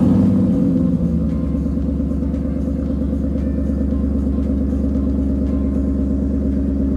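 A deep, steady Ford Mustang engine idles close by with a low throbbing rumble, after a brief louder burst at the start.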